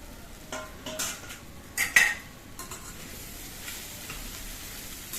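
Soaked puffed rice is stirred with finely chopped coriander in a pan for a Karnataka-style sushila; a few short spoon scrapes and clinks stand out in the middle of an otherwise quiet, faint stretch with no talking.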